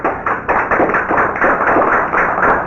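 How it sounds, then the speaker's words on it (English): Close, loud clapping from a gathered group at a community meeting, with rhythmic, uneven hand claps continuing steadily throughout. "for each and every one of you to give yourself an applause"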